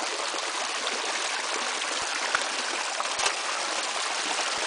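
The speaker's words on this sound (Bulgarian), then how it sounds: "Нещо като водопадче, например, тук." Water streams steadily over solid rock in a small waterfall, a continuous close rushing hiss with no pauses, a few faint knocks underneath and no voices.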